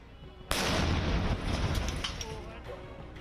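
A sudden loud blast from a controlled explosion of a recovered IED bursts out, followed by a rumbling roar that slowly fades, with some distant background noise.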